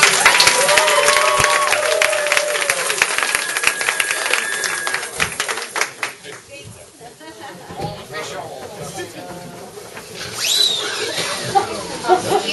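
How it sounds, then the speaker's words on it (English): Applause rises from a comedy club audience after a set, dense clapping and crowd noise loud at first, then thinning and fading into scattered claps and chatter before a brief swell near the end. "give these guys a big round of applause"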